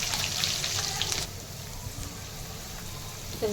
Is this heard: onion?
yes